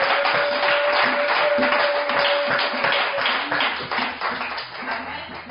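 A church congregation clapping together in rhythm and cheering in acclaim, dense and lively, with voices calling out over the hands; the clapping fades slightly toward the end.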